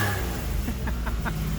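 A 1991 Geo Metro engine runs cold with only a muffler for exhaust, giving a steady, rough low drone with a few quick throttle blips close by.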